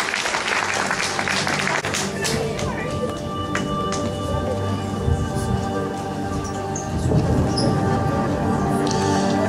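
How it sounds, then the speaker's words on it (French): Audience applause at a magic show evening, a dense, steady wash of clapping filling the room for several seconds, with crowd noise and some voices mixed in. "prochain candidat qui s'appelle Patrick, qu'on peut applaudir très très fort."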